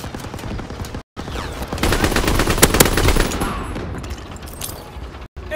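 Machine gun fire in the World War II shooter Call of Duty WW2 rattles as loud, dense, continuous bursts, with brief silent gaps at the start and end.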